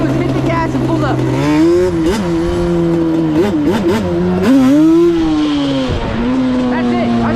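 A Yamaha Banshee ATV's two-stroke engine screams loud and close, revving hard in rising and falling surges as the rider hits the throttle to lift the front end into a wheelie.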